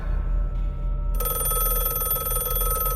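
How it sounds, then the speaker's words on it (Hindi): Telephone on a table starting to ring, a bright electronic trill that cuts in about a second in after a low hum and then repeats steadily, loud and close. "फ़ोन बजने लगा।"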